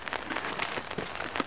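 Steady patter of rain falling on a surface during a thaw with snow on the ground, a dense hiss with scattered drops, continuous and fairly close.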